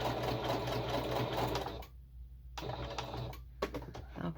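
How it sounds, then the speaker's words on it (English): Sewing machine stitching a shaker journal card in steady bursts, stopping and starting a few times, alone with no talk and a loud, close, continuous mechanical whir. "okay, so we'll cut that off, and then I'll sew the next one"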